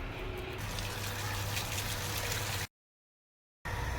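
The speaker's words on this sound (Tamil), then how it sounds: "கொஞ்சம் தண்ணி ஊற்றி லீக்கேஜ் இருக்கான்னு நம்ம செக் பண்ணுவோம்" Water poured into an electric water pump motor during a leak check, a steady close gush and splash that cuts out abruptly, goes silent for about a second, then resumes.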